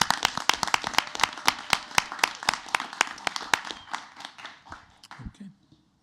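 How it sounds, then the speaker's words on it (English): A school board meeting audience gives a short burst of clapping, steady and moderately near, thinning out and fading to quiet after about five seconds. "a round of applause to Dr."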